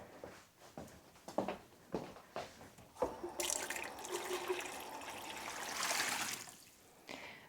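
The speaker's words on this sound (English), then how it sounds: "fill the hot foot bath with hot water in preparation for the patient" Hot water runs from a tap into a hot foot bath basin, starting with scattered splashes and drips, then settling into a steady gushing fill that swells before tapering off.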